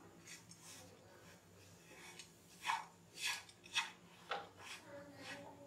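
Dates and nut powder mixture being stirred in a pan on low flame for a ladoo, with a few soft scraping rasps of a spoon against the pan over a quiet background.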